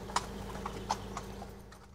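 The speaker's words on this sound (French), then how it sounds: "On va croiser des chevaux là, donc ils ont priorité dans Chantilly." Horses' hooves clip-clopping on a road in Chantilly, a few faint, fairly distant knocks at an irregular walking pace over a low steady hum, no speech.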